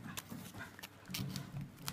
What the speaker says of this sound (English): You could hear my dog there running out of the flat.